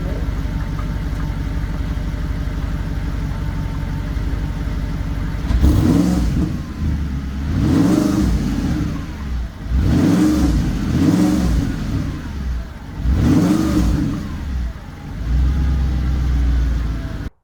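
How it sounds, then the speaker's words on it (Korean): Audi R8 coupe with a 4.2-litre V8 engine idling with a deep steady hum, then revved hard four times in succession, each blip rising and falling loudly close by. "엔진 소리 한번 들려드릴게요."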